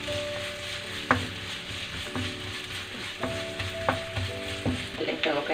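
Sliced onion fries in a pan with a steady close sizzle, broken by periodic scrapes and taps of a spatula stirring it, no one speaking.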